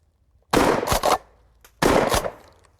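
Two loud shotgun blasts from a Stoeger P3000 pump shotgun at an outdoor range, about a second and a quarter apart, each with a sharp crack and a short decaying tail, with no voices.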